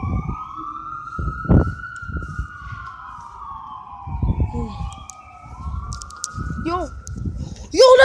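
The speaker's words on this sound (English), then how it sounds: "that was an ambulance" An ambulance siren passes by, its wailing tone sweeping slowly up and down and staying loud throughout, while excited voices talk and exclaim over it and a brief higher siren whoop cuts in near the end.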